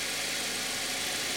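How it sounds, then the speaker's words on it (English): A 2021 Subaru Crosstrek's 2.5-liter four-cylinder engine idles with the hood open after a cold start, giving a steady, close, even rumble with no breaks. "And this is the idle sound"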